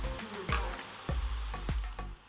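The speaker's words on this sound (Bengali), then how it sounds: "আর সরিষার তেল দিয়ে বেরেস্তাটা এই কারণে করছি" Onions fry in hot mustard oil for a steady sizzle, with a few soft stirring scrapes against the pan at regular intervals.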